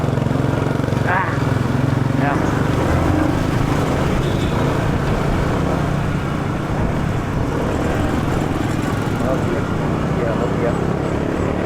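Motorcycle engine droning steadily while riding, with constant road and wind rush throughout and someone talking over it.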